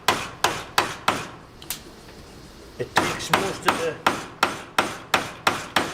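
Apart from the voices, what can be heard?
chisel tidying out wood mortise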